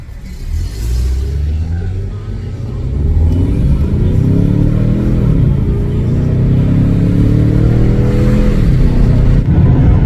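A Mercedes speeds past on a suburban road outside Kyiv, its engine rising from a steady rumble into a loud, sustained roar that holds close and strong through the second half.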